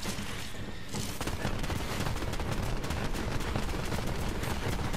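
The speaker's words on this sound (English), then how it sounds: "Oh, the grenades are working for a change." Grenade explosions go off in Borderlands 3 as a dense, continuous barrage of bangs and crackling blasts. The bursts are loud and packed tightly together for several seconds, with no voices.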